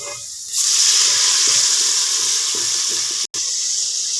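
Water poured into frying masala for beef nihari hits the hot pan and bursts into a loud, steady hiss, sizzling continuously with a brief cut near the end.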